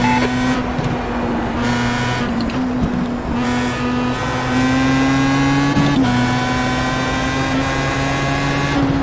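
Race cars lapping Silverstone in the iRacing sim, with a loud, steady engine drone holding a high pitch while another car's engine briefly overlaps as it passes, with slight gear changes.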